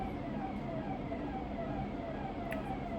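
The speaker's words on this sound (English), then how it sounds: "ignore the sirens in the background" Emergency vehicle sirens wail steadily in the distance, faint and continuous behind a low rumble of background noise, with no voices over them.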